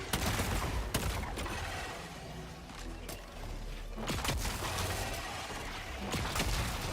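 Sharp gunshots crack out at irregular intervals from a gun in the co-op shooter Helldivers 2, each report loud against a constant roar of battle noise.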